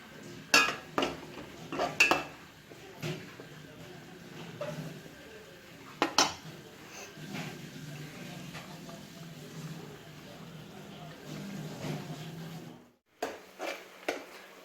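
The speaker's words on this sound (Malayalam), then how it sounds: "നമ്മളതിലേക്ക് കഴുകി വെച്ചിരിക്കുന്ന ക്രാബ് നമ്മളതിലേക്ക് ഇടുകയാണ്." Washed crab pieces tumble into a pot of Kerala-style crab curry, giving scattered knocks and clinks of shell against metal over a low simmering bed, with a sharp pause near the end.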